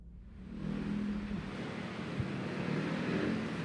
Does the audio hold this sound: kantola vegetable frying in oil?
no